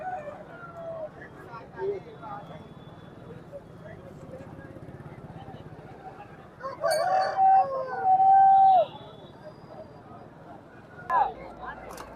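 A rooster at a Saturday country-chicken market in Mamidada crows once, loud and fairly near, through a steady bed of crowd talk and market bustle, with a few other calls around it.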